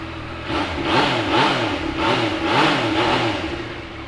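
2018 Yamaha Tracer 900 GT motorcycle with standard exhaust, engine running close with a few rhythmic blips of the throttle rising and falling over a steady idle.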